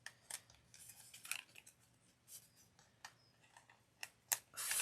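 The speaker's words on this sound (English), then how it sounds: "Let's see if I can get my scissors in." Scissors snip through fabric frills in a run of short, crisp cuts with brief pauses between them, close by and fairly quiet, with no talking.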